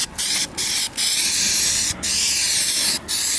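Close, loud bursts of spray paint hiss as a base coat goes onto car trim, several sustained sprays separated by short pauses, with no talking.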